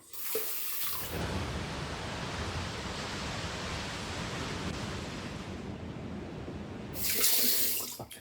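Tap water runs steadily into a sink while a man rinses off after a shave with a slant razor, a loud, even rushing hiss lasting several seconds and swelling briefly near the end.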